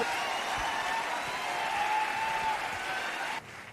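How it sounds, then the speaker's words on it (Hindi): Sustained applause from an audience welcoming family members on stage at a company event, steady and even for a few seconds before dropping off abruptly, with a faint tonal hum underneath. "मैं चाहूंगा कि आप जोरदार तालियों से स्वागत करें"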